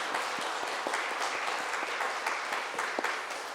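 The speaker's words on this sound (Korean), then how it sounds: "우리 박수 한번 하시면 좋겠습니다" A church congregation claps together during a Sunday worship service, a steady wash of applause with a few sharper individual claps standing out, moderately close and continuing without pause.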